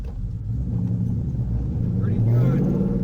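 A car engine idles roughly with both mufflers missing and an X-pipe fitted behind shorty headers, a steady low rumble that swells slightly near the end.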